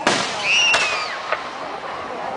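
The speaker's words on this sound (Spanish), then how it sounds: "No hay cohetes silenciosos, Chelsea." Fireworks rockets launch close by: a sharp bang, then whistling tones that rise and fall, a second crack and a fainter pop, all over a steady hiss with no clear talk.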